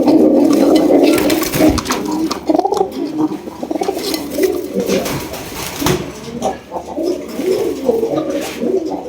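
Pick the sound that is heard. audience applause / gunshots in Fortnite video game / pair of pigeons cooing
pair of pigeons cooing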